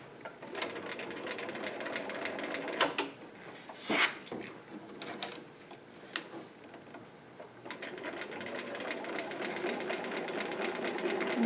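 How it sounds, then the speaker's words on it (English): A sewing machine zigzag-stitches knitted fabric near the edge, running in steady mechanical bursts with a few short pauses and clicks between runs, close and clear with no talking. "I just have to kind of keep an eye on it that my machine actually feeds the knitting through"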